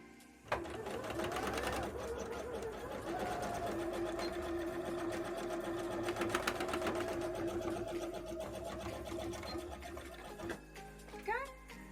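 Sewing machine running a wide zigzag stitch on a bra, whirring steadily and close for most of the stretch before stopping, with a voice speaking faintly over it.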